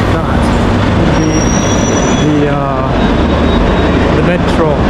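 A Madrid metro train rumbles through a station with a steady loud roar, faint high wheel squeal and a brief rising whine, while people talk nearby.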